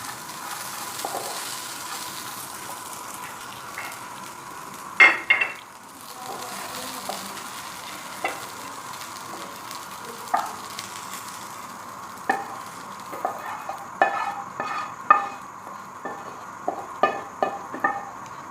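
Raisins, dates and dry fruits sizzle and fry steadily in a pan for a sweet shīr khurma dessert, with a soft continuous crackle broken by sharp clinks and scrapes of a spoon stirring.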